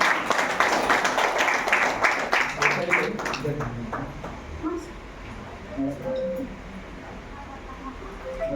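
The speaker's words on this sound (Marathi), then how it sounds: "टाळ्या" Audience applause at a woman empowerment program, a burst of many hands clapping for about three seconds that fades out, with people talking and murmuring underneath and after.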